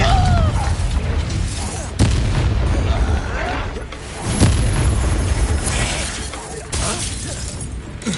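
Explosive fire spell bursts during a Hogwarts Legacy wizard duel, with sharp blasts and crackling impacts at about 2 and 4.3 seconds over a dense, continuous din of combat effects and game music.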